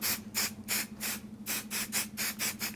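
A can of spray adhesive shaken briskly, a rapid series of about nine rattling, hissing strokes in an even rhythm with brief pauses, close and clear.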